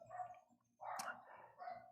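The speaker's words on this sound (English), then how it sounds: "We have lots of puppies in the neighborhood." Puppies bark somewhere in the neighborhood, three short, faint, distant yelps over an otherwise quiet background.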